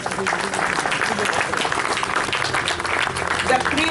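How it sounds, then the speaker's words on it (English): A school audience at an A.G. Church school annual function in Raniganj claps for teachers and staff: a sustained, dense wash of many hands at even loudness, with some voices mixed into the crowd noise. "I think they deserve a big round of applause"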